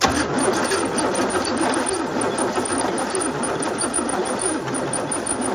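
A 1968 Oldsmobile Delmont 88, left sitting for 30 years, cranks over steadily on the starter for a compression test, a loud continuous rhythmic churning whir close by that never catches.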